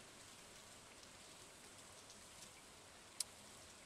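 Steady rain falling in the Stardew Valley farming game, a soft even hiss of droplets with one brief sharp tick near the end, faint and alone.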